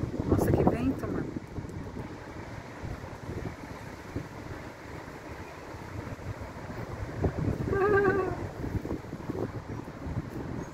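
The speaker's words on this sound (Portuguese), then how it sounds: "Nossa, que vento, mano." Strong wind buffeting the microphone outdoors, rough gusty rumble that swells loudly at the start and again later, with people talking.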